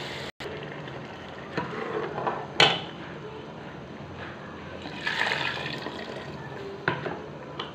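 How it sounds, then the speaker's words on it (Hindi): Water from boiled chickpeas is poured into a hot, oily spiced chickpea curry, giving a soft, steady sizzle and liquid rush with a few sharper bursts, fairly quiet and close. "तो अब इसमें मैं पानी डालूँगी जिसमें मैंने चने बॉईल किए थे"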